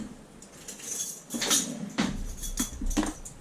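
Metal spoons clink against a pot and each other in a kitchen, a few bright separate taps and scrapes spread over a few seconds, close and alone without talk.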